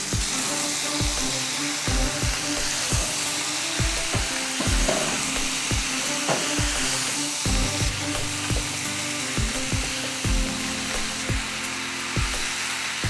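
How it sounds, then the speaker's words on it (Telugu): Cucumber pieces for dosakaya curry frying in a hot pan with chopped green chilli, a loud steady sizzle close by, punctuated by regular clacks of a spoon stirring against the pan. "ఇప్పుడు దీంట్లో మనం కట్ చేసి పెట్టుకున్న దోసకాయ ముక్కలు వేసుకోవాలి."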